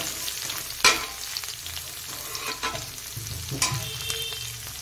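Cauliflower florets fry in hot oil on a home stove. A steady, soft sizzle continues throughout, broken by a couple of sharp spatula scrapes and clinks against the pan.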